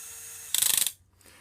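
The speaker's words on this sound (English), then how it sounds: "when you get to the top of the extension, it obviously does grind on the little gears there" The small gears of an RC LEGO Technic Volvo L350F wheel loader (set 42030) grind as the loader arms reach the top of their extension: a short burst of rapid, close ratcheting clicks that stops abruptly, leaving near silence.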